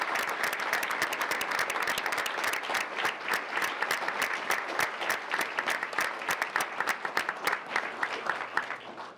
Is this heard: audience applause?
yes